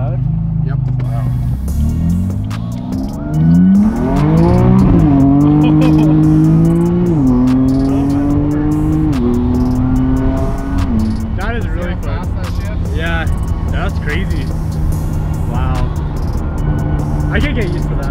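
A wrecked 2015 Duramax diesel truck running only downpipes and a midpipe with no muffler, revving hard and loud with rising, stepping engine pitch and some tire squeal, close by.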